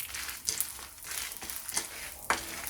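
Red chillies, garlic cloves and chana dal dry roasting in a pan for kadalai paruppu chutney, giving a soft continuous crackle with a few sharper scraping clicks as they are stirred, close and fairly quiet.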